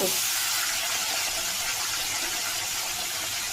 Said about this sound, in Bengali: এই আলুটাকে ভেজে নেবো